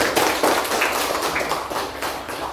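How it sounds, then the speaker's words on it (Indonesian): A classroom crowd applauds steadily, dense overlapping claps filling the room for a few seconds without letup. "Kita beri tepuk tangan dulu."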